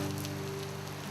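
Rain pours steadily on an outdoor gathering during a prostration ritual, a dense even patter that stays constant throughout, with a low steady hum beneath it.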